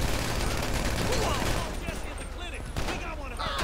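Bursts of rapid gunfire in the video game GTA V crackle through a busy, noisy scene, with someone talking over the shots in Portuguese.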